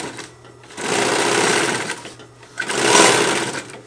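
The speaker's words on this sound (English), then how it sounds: "I'm going to sew down these sides." Sewing machine running down the sides of a tote bag made from sail cloth, two loud close bursts of rapid stitching with a short pause between them.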